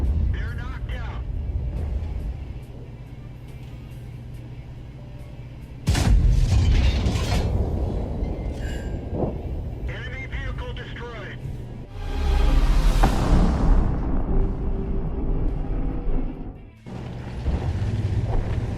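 An FV4005 tank fires its gun in a video game, giving a sudden loud boom that sits over a rumbling engine and battle noise. A second heavy blast follows later, trailed by crashing impacts.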